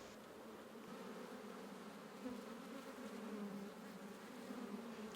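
Honey bees hum in a steady, soft, dense drone around an open beehive during queen handling, with a few brief louder passes close by.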